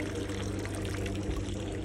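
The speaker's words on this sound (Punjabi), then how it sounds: "ਇੱਥੇ ਵੀ ਪਾਣੀ ਜਿਹੜਾ ਹੈਗਾ ਇਸ ਤਰ੍ਹਾਂ ਡਿੱਗ ਰਿਹਾ ਇਸ ਫੈਕਟਰੀ 'ਚ" Polluted factory wastewater pours into an open channel, making a steady, continuous rushing splash that stays even throughout.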